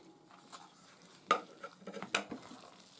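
Mashed tovcheniky mass, seasoned with pepper, salt and garlic, is stirred by hand, giving quiet scattered scrapes and a few sharper utensil knocks against the bowl.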